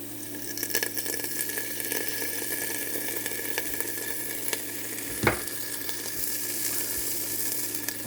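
Tomato paste frying in a pot for okra soup with shrimp, giving a steady close sizzle and crackle throughout, with a brief clink of a utensil partway through.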